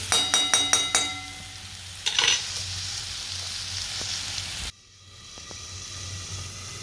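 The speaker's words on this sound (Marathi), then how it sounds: "आणि आता चांगलं परत ते वाफून घेते." Chutney with salt steams in a pan with a steady close sizzle and hiss. A few quick clinks open the sequence, and there is a short burst of stirring before a sudden drop to a quieter simmer.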